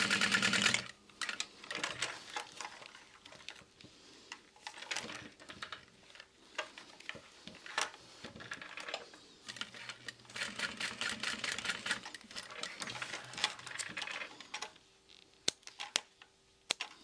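A sewing machine stitches a box corner on a backpack strap, making faint, rapid mechanical ticking in stop-and-start runs across the clip.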